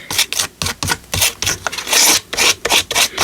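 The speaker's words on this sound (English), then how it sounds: "Sorry if you don't like the scraping sound." Paint and gesso are scraped across a surface while ephemera is made, a loud, close, rhythmic series of raspy strokes in quick succession.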